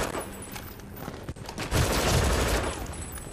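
Gunfire pounds away at a turret in the video game Brink, rapid clustered shots close and loud, with a short lull before a heavier rumbling burst swells and sustains.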